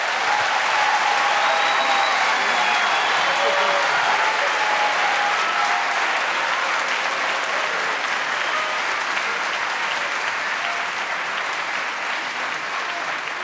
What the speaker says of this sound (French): je vous propose de déjà les applaudir très fort